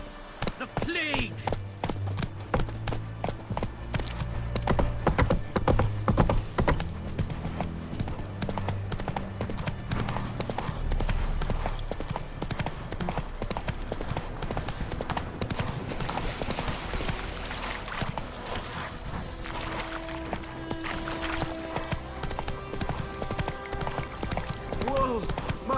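A horse galloping in The Witcher 3 video game, a continuous rapid clip-clop of hooves with game music and occasional voices over it.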